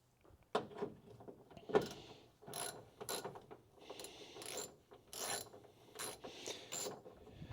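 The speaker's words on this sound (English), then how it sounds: "I will go back to using the regular ratchet." A ratchet works a bolt on a car under restoration, giving repeated sharp metallic clicking bursts at an irregular pace, fairly quiet and close, with no talk.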